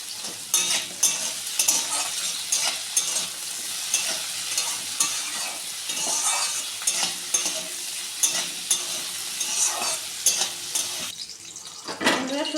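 Lightly salted mixed vegetables, green beans and capsicum, are stir-fried in a kadai, with a continuous close sizzle and a busy run of spatula scrapes and clanks against the pan, with no voices.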